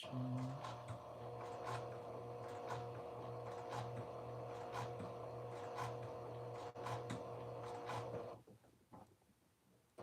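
A sewing machine edge stitching a dress pocket runs in a steady, even mechanical whir with regular ticking pulses, close and alone, then stops abruptly near the end.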